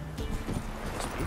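Horse hooves clip-clop at a walking pace in The Witcher 3: Wild Hunt amid a busy ambient bed, with a faint voice and some rustling mixed in.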